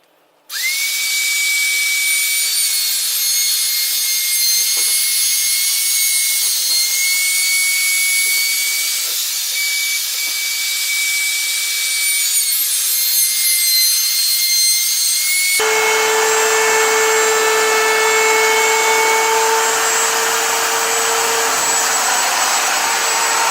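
A power saw cuts a cherry wood tabletop with a loud, steady high-pitched whine lasting over twenty seconds, its pitch dropping to a lower, steadier hum near the end as the cut finishes.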